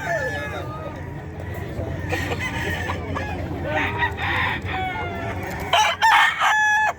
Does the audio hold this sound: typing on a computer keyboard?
no